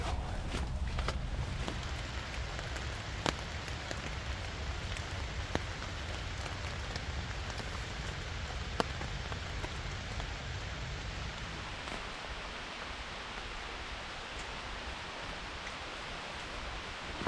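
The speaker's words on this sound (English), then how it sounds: "Just enjoying the sound of the rain here in the hammock." Steady rain pattering on a hammock and surrounding surfaces during urban stealth camping in New York, a dense continuous hiss with scattered louder drops and a few faint rustles, no talking.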